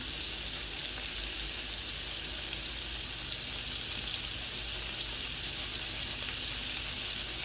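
Meatballs frying in a pan, a steady close hiss and crackle of sizzling oil that runs evenly throughout with no talk.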